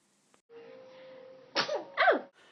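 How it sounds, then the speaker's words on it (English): A tiny, high-pitched baby sneeze, a soft squeaky intake and then two quick sneezes close to the microphone in an otherwise quiet room. "Brand new baby sneezes."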